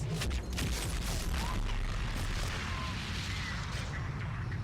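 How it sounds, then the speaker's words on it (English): Explosion in a Mass Effect 3 multiplayer match, a loud low boom with rumbling debris that decays over several seconds amid continuous game noise. "Ooh, caught off guard by a trooper then with the explosion."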